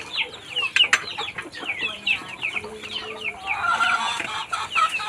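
Dekalb White chicks crowd together, giving off a dense, continuous chorus of high, overlapping peeps and chirps. The calls grow busier toward the end of the clip, and no voices are heard.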